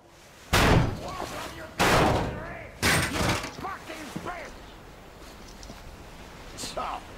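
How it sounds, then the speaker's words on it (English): Heavy door in Metro Exodus being forced with shoves: three loud slamming thuds about a second apart, then quieter knocks and rattles under faint voices. "The door's giving! Let's give it a shove, Artyom!"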